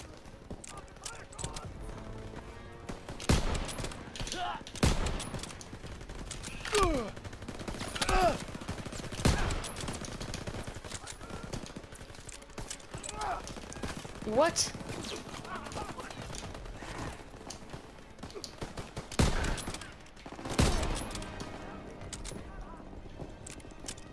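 Machine gun fire in the World War II shooter Call of Duty WW2, with repeated sharp bursts and single shots at varying distance, mixed with in-game effects and background sound throughout.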